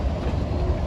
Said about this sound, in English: backing a train up is another GE variety, an ES44AC